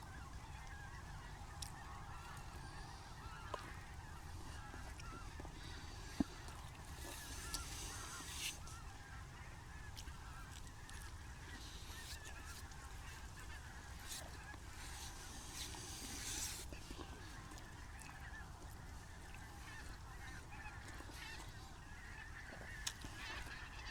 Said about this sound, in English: More geese flying over.